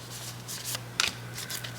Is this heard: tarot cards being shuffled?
yes